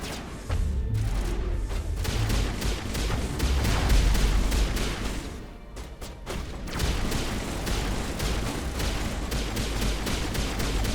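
Gunfire in Mass Effect Legendary Edition: a steady stream of close, rapid shots with a brief lull midway, set over a low rumbling game backdrop.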